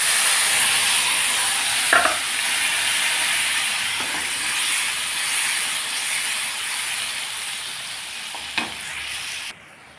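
Spice paste sizzles in the hot oil left from frying koi fish with black cumin seeds, a steady loud hiss with a few clinks of stirring.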